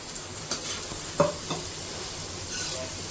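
Tender tamarind leaves drop into a frying prawn curry, giving a close sizzle with a few sharp clinks and stirring knocks of a utensil against the pan. No one speaks.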